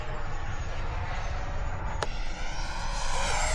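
An airplane engine drones steadily in flight at close range, a continuous broadband roar with a faint rising whine layered on top and a brief sharp click partway through.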